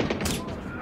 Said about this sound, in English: Whoa, what the fuck's that explosion?